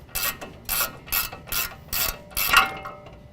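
A ratchet wrench removing the upper ball joint nut on a 2015-17 Ford F-150 4WD during a lift kit install, six crisp, close bursts of rapid clicking in a steady back-and-forth rhythm, with no talk.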